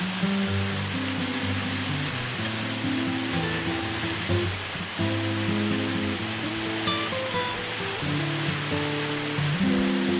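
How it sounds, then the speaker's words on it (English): Heavy rain pours down outside an off-grid cabin, making a dense, steady roar of water that fills the whole stretch without letting up. A low tonal drone sits beneath the downpour, and no one speaks. "it's really coming down out there. I was hoping the rain would let up"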